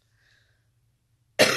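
A single sharp cough bursts out abruptly after a stretch of near silence, loud and close, cutting off at the end.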